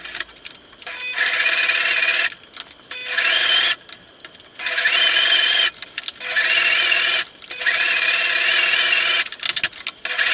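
A sewing machine top stitching around a tote bag runs in loud, steady bursts of rapid whirring, each lasting a second or two and separated by short pauses as the fabric is turned.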